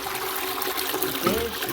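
Water rushes and trickles close by as a toilet flushes during a home DIY repair.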